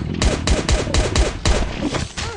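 Rapid gunfire in the video game Last Day On Earth while shooting a creature, a fast series of loud close shots in an uneven rhythm.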